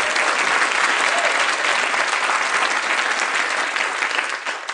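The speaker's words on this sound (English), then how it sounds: "You people applauded." Dense, sustained audience applause fills a comedy roast hall, a steady wash of many hands clapping at once, loud and close, holding for several seconds before easing slightly at the end.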